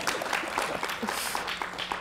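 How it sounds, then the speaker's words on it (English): Scattered clapping from an audience, light and brief rather than a full ovation. "There could be a little more applause."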